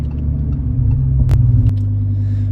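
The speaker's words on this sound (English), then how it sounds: "Gonna go ahead and shut her down for the time being so I don't just sit here idling away." A Lamborghini idles while parking, giving a loud, close, low engine rumble and drone that shifts to a steadier, lower hum partway through, with no talking.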